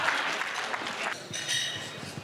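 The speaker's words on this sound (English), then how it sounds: "Let's give everybody a round of applause." A conference audience applauds panelists in a steady wash of many hands clapping. The clapping tapers off briefly, then picks up again toward the end.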